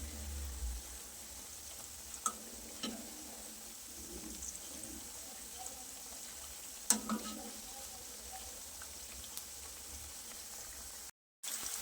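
Green pea bhajiya fritters deep-frying in oil as they are turned until crisp and golden: a steady, soft sizzle throughout, with occasional clinks and taps of a utensil against the pan.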